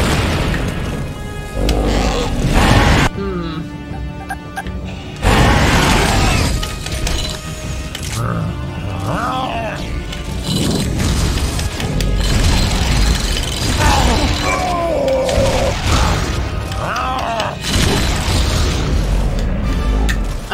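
Repeated heavy grenade blasts boom and shatter through a robot shooter set in a mechanical world (Metal Arms: Glitch in the System), loud and dense, with bursts clustered across the stretch and brief lulls between volleys.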